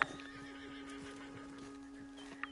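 A faint horse whinny in Red Dead Redemption 2 sits under a steady tonal hum, with soft hoof clops and a brief sharp click near the end.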